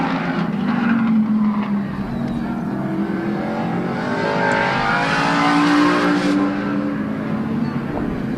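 Car number 17 races at Midvale Speedway, a dirt track, its engine a loud, steady roar that swells and slowly fades as it passes, with other crowd and track noise behind.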